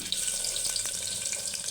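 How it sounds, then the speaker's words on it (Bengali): Chopped onions go into lightly heated oil in a clay pot at the start of cooking biryani, giving a steady, soft, hissing sizzle with faint crackles that continues throughout. "এখন পেঁয়াজ কুচিগুলো দিয়ে দিব।"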